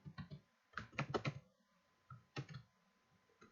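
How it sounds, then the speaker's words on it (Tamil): Close, quiet typing on a computer keyboard, a quick flurry of key clicks followed by a pause and a few more keystrokes. "வெப்னு டைப் பண்ணிட்டு கண்ட்ரோல் ஸ்பேஸ் கொடுங்க."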